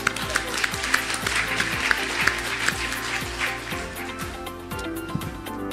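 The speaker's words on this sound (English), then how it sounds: "A round of applause, please." Audience applause fills a hall at the opening ceremony of the 2024 International Electrical Engineering Congress in Pattaya, Chonburi, with steady, moderately loud clapping that continues for several seconds over a low background hum.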